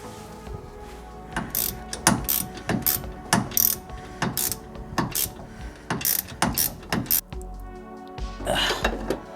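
A hand ratchet clicks in quick repeated bursts while a nut is tightened on a rear toe link of a 1JZ-powered MK3 Toyota Supra, close and crisp, with brief pauses between strokes.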